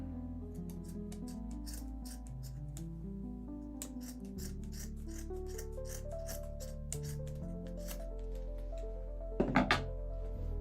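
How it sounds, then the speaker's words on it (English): Scissors snipping through a cotton t-shirt to cut off a section, a string of short, crisp cutting clicks close by under steady background music. "I'm going to take some scissors. I'm going to cut off a section here."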